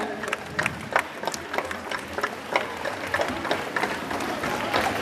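Students and guests applaud at a children's science congress in a school in Chamba, loud sustained clapping from a large crowd with shouts and voices mixed in throughout.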